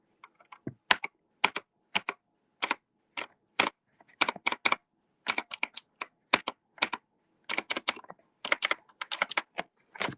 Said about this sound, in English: This clacky keyboard.